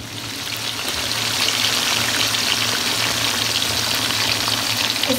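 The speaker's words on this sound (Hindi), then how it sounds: "अब हम इसको फ्राई करेंगे, इसको उठाकर तो मैं इसको फ्राई करूँगी।" Steamed Lahori chargha chicken fries in hot oil with a loud, steady sizzle that swells after a quieter start and then holds constant.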